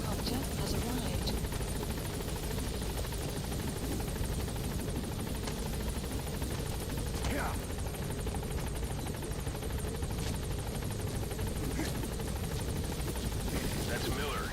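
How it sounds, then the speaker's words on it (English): A support helicopter hovers at the landing zone in MGSV: The Phantom Pain, its steady rotor thrum and engine whine constant throughout; radio voices talk over it at times. "Support helicopter has arrived."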